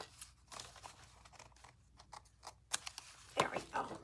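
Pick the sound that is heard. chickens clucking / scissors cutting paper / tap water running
scissors cutting paper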